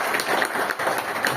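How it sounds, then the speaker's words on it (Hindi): Audience at a loan and credit card meeting in Shahapur, Mumbai, applauding with dense, steady clapping that fills the whole short moment, close and loud. "सभी लोग एक बार तालियां बजाएं।"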